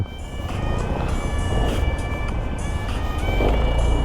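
A Honda Civic drives past a bus, its engine and road noise a steady, loud rumble under music that plays throughout.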